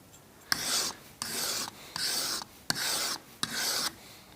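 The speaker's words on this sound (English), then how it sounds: "So you'll notice I'm running the knife back and forth." A pointed knife blade is drawn back and forth across a diamond grit sharpening stone, giving about six close, even rasping strokes in a steady rhythm with brief pauses between them.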